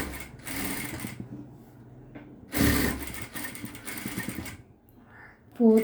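Sewing machine stitching around the four sides of a cloth wall hanging, in several close whirring bursts separated by short pauses, with someone speaking over parts of it.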